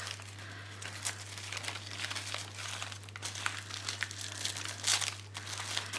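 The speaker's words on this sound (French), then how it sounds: "alors là on a un petit paquet que je vais ouvrir." Close, steady crinkling of wrapping as a small package is opened by hand, a continuous rustle with scattered sharper crackles and tears running throughout, over a constant low electrical hum.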